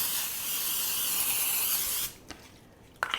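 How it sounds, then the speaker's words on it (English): Pam cooking spray hisses in one long continuous burst into a 13 by 9 inch baking dish, close and fairly loud, then stops abruptly, followed by a couple of faint clicks and brief rustles. "I'm going to spray a 13 by 9 inch baking dish with Pam."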